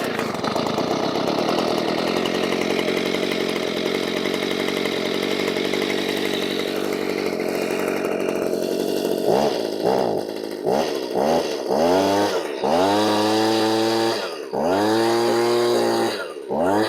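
A Stihl BG85 handheld leaf blower's two-stroke engine runs loud and steady, then revs up and down in a series of distinct bursts toward the end.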